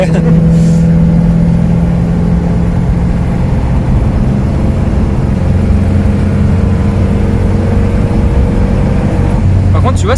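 A 1962 Simca Aronde Rush Ranch with a 62 hp engine cruising steadily at about 70 km/h, its loud, droning interior engine hum constant throughout, with a low rumble and someone talking over it.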